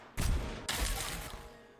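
Two bursts of rapid gunfire from the video game Goddess of Victory: Nikke, loud and close, the second volley following about half a second after the first and trailing off.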